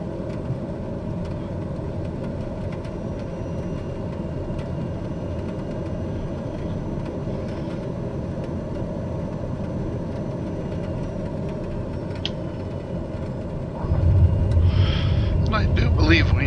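Aircraft engine in Microsoft Flight Simulator descending toward the runway at Quad City International, a steady low drone that swells louder near the end, with no voices.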